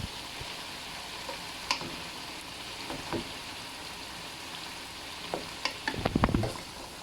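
Tomatoes are mashed in very hot oil for a mutton karahi, giving a faint, steady sizzle with scattered scraping and tapping that turns into a brief flurry of clatter near the end.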